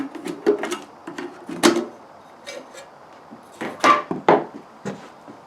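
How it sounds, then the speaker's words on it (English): A lid is worked off a new can of paint in a workshop, heard as several separate close metallic clicks, pops and scrapes with short quiet gaps between them. "open the lid,"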